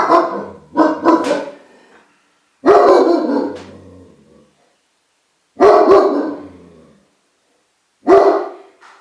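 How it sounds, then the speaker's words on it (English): A dog barks in four separate bursts spread across several seconds, each outburst loud and close with a few rapid barks, separated by short silences. "my dog was barking"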